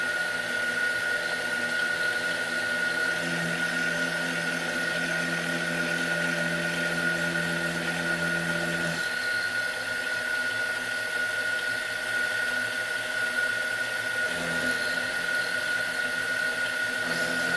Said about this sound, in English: This is 1/2 millimeter depth of cut, a 300 millimeter feed rate, and 2 millimeter step over.